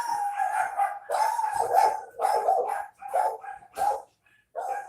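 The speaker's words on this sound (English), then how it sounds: "Hold on, dogs are barking." Several dogs bark and howl close by in repeated overlapping bursts, with a short pause near the end before another bark.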